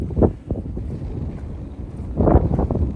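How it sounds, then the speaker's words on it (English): Gusty wind buffets the microphone outdoors on a farm, with low rumbling bursts at the start and again near the end over a steady blustery background. "Wasn't expecting the wind today, but here it is."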